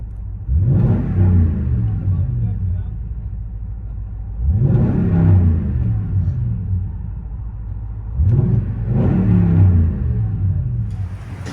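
A 2016 Toyota Tundra 5.7L V8 with Flowmaster Super 10 true dual exhaust, heard from inside the cab: three rising revs spaced a few seconds apart, each a deep swelling rumble over a steady idle drone.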